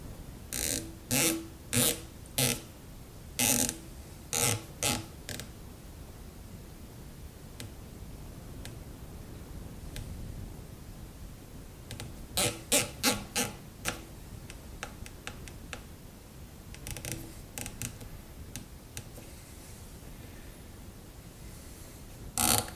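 Vortex Strike Eagle riflescope windage turret clicking as it turns, a close series of crisp, evenly spaced detents in quick runs with pauses between, over a faint steady hiss.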